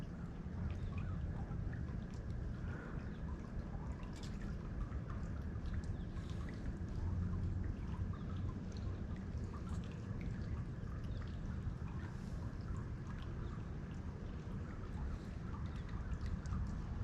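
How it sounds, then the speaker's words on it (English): Light drizzle falls steadily on a small fishing boat during a warm December day of crappie fishing, a soft continuous patter and wash over low background rumble, with no talking. "It ain't even raining hard, it's just barely drizzling."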